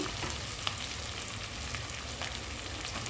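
Goat head meat fries in a pan with a dense, steady sizzle that fills the short stretch, broken by a couple of faint clicks, and no voices.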